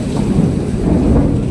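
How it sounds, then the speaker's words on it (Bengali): Thunder rumbling during heavy rain, a deep, continuous, loud roll under a steady wash of rainfall, with no voices. "মেঘ ডাকছে। এই জায়গায় খুব বৃষ্টি হচ্ছে।"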